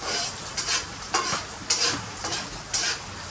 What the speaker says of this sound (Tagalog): Ang bango talaga pag ginigisa ang bawang at sibuyas